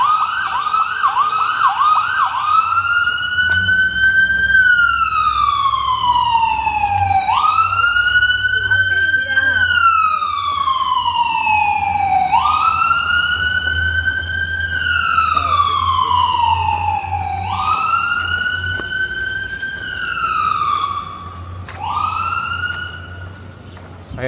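A wailing emergency vehicle siren sweeps up and down in long repeated cycles on a New York City street, loud and close, over steady low traffic rumble before fading slightly at the end.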